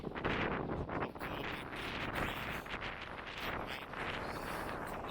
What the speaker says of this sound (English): Really windy, so I'm going to go in.